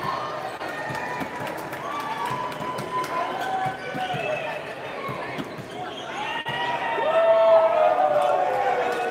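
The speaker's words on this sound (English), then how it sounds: "a cheer from the bounce side" Crowd at a Toronto Premier League volleyball playoff match rising into a cheer toward the end, over steady background chatter, squeaking shoes and ball bounces in an indoor gym; the cheer swells loudest in the last seconds.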